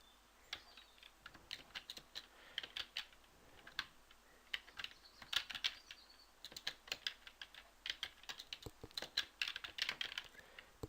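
Rapid typing of ABAP code on a computer keyboard, with close, crisp key clicks in uneven bursts and short pauses throughout, no voices.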